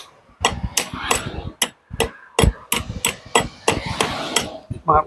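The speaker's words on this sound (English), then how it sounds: "It might look a bit harsh, chipping the edges of the bricks like this" Hammer or chisel chipping old cement mortar off the edges of bricks in a damp 160-year-old building, a quick irregular run of about a dozen sharp, close metallic strikes, some with faint chatter between blows.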